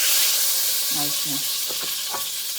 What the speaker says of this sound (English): So we're going to put a little garlic butter.